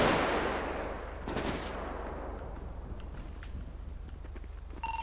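Gunfire exchange in a GTA 5 roleplay police operation in a Rocinha favela, with a dense, loud burst of shots at the start easing into continuous crackling fire and scattered reports throughout.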